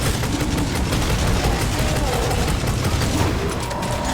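Dense, loud rapid-fire gunfire from a first-person video game, bursts running continuously without a break and filling the whole stretch.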